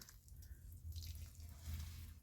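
Water pours and trickles onto soil in a pot, a soft uneven splashing with gurgling bursts, close and quiet.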